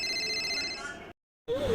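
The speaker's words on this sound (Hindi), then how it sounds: "ये किसका कॉल आ रहा है?" An incoming call sets a phone ringing, a steady electronic ring tone that cuts off abruptly into a short silence before other sound resumes.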